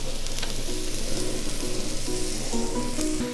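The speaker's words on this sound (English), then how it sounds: "I put my carrots in first and then we put all the other vegetables in there." Carrots and mixed vegetables sizzle loudly in a hot pan while being stir-fried for chopsuey, a close, continuous frying crackle with stirring scrapes and bubbling pops and no talk.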